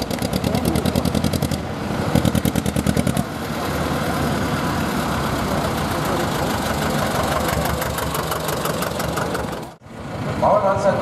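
A 1949 single-cylinder tractor of 25 hp and about 6 litres displacement runs at a tractor pulling event, its loud, steady, heavy thumping continuing for several seconds before a brief dip near the end.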